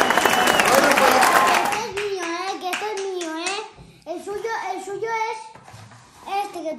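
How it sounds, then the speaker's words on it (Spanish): Family members clap for a dad after he finishes building a Mario and Luigi toy car, a dense burst of hand clapping lasting under two seconds before a voice takes over and talking continues. "Un aplauso para papá. Un aplauso."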